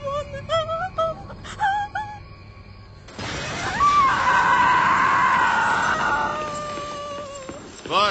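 A person screams in a long, loud, strained cry that rises and holds for several seconds, following a stretch of shrill, rapid cries and ending abruptly.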